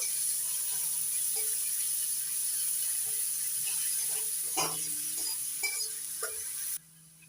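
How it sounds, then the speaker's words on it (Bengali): Chopped onion fries in hot oil tempered with whole cumin, a steady hiss of sizzling broken by a few stirring clicks and scrapes of a spoon, close and fairly loud, ending abruptly. "পেঁয়াজ কুচি একটু লালচে করে ভেজে নেব।"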